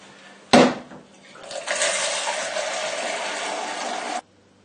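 Water pours steadily into a 1000 ml measuring jug after a sharp clunk, a continuous close splashing fill lasting a few seconds before stopping abruptly.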